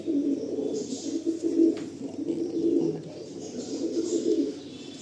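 Tournament-quality pigeons cooing nearby, low, throaty rolling coos repeating steadily over a quiet background, with no talk.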